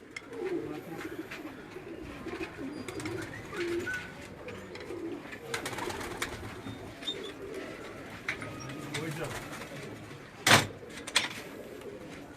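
Pigeons on a rooftop loft in Quetta coo softly in low, repeated murmurs against faint outdoor ambience, with a sharp knock or door-like thud near the end.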